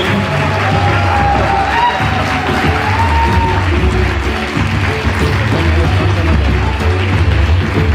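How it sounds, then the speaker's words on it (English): Large crowd at an outdoor public event in Pune applauding and cheering steadily, a dense continuous wash of clapping with whoops and shouts rising over it, loud and sustained throughout. "Come on, let's keep the applause going."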